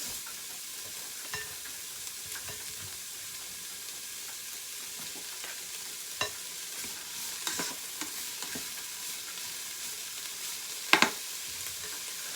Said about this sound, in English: I'm gonna let all the vegetables saute, get tendered up